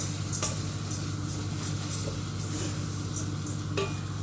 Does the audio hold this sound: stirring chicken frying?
yes